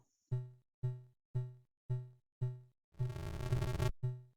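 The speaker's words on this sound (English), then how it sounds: "this is the sound of the heartbeat of the current character" A steady, muffled double-thump heartbeat from the Commodore 64 game The Empire Strikes Back repeats five times at an even pace, then a burst of harsh, crackling noise cuts in before one final beat.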